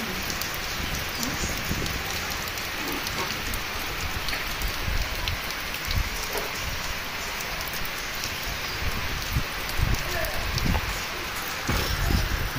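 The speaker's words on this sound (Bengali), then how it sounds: "এই যে দেখতে পাচ্ছেন বৃষ্টিতে একবারে সব ধুয়ে চলে যাচ্ছে একবারে" Heavy rain pours steadily onto surfaces, a dense, loud wash of drumming drops that runs unbroken from start to finish.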